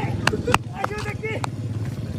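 A motorcycle engine hums steadily underneath, low and continuous, while people talk loudly over it with a few sharp clatters.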